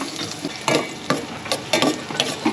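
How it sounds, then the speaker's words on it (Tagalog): Tofu sizzles in hot oil in a pan, with intermittent scraping and stirring clatter, close and steady. "Piprito po siya ng tokwa."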